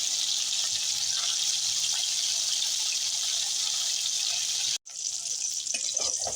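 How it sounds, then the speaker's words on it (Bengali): Prawns fry in hot oil for a Bengali-style lau chingri, giving a loud, continuous close-up sizzle that cuts out for a moment near the end and then resumes, with no talking. "চিংড়ি মাছটা আমি ভালো করে ভেজে নেব, যাতে চিংড়ি মাছের গায়ে ব্রাউন কালার এসে যায়।"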